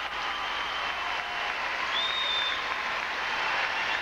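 Ice dance audience at a 1996-97 Champions Series event applauding after a free dance, a dense, steady wash of clapping from a large arena crowd that continues evenly throughout.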